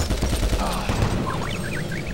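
Rapid chain gun fire from a Commando Marine in Doom 3 BFG Edition's Lost Mission, a dense burst of repeated shots in an underground area, loud and close with a high whining tone trailing behind.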